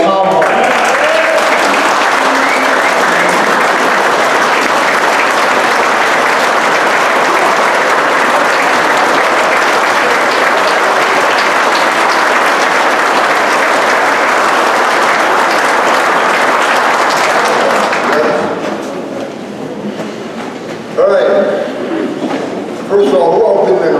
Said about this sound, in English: I'd like to get a huge round of applause for North Country's own Tom Homan